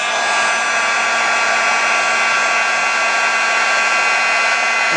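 A heat tool blowing hot air onto a snowman 3D card makes a loud, constant whirring roar close by, steady for the whole stretch with no voices.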